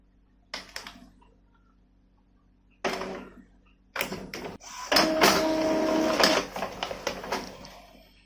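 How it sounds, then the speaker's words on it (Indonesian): Epson L3110 inkjet printer printing, with short mechanical bursts and pauses, then a longer run of whirring, clicking and rattling paper feed near the microphone. "Ini proses untuk mencetak."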